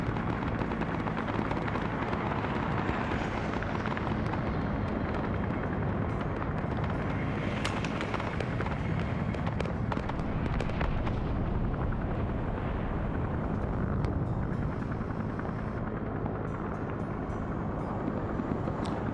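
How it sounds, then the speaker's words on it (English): Napalm strike explosions in an Arma military video game session, a dense continuous roar of distant blasts and rumbling fire with a few sharper cracks mixed in, steady and loud throughout without talk. "you got a napalm hit all the way back here"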